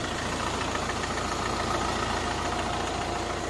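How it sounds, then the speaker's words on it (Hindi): A Hyundai Venue SX 1500 cc diesel engine idles steadily and close by, a constant rough clatter with no speech. "ये देखो गाइस इंजन साउंड आप सुन लो"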